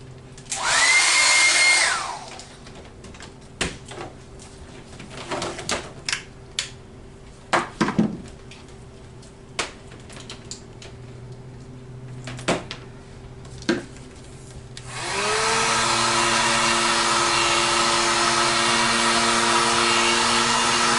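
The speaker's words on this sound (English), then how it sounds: "I'm going to go ahead and put my heat gun on it." A heat gun blows air over a fresh acrylic pour painting, a loud whooshing blast at the start, then quiet scattered taps and clinks, before a long steady blowing hum returns near the end.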